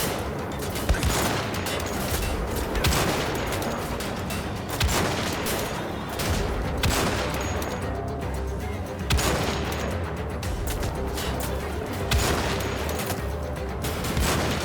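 Loud, rapid gunfire in Wolfenstein: The Old Blood rattles in repeated bursts every second or two, continuous and without any talking.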